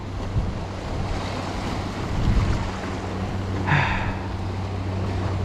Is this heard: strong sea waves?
yes